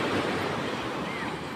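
Ocean surf at Punta Harina beach rolls in as a loud, continuous broadband wash, mixed with strong wind buffeting the microphone.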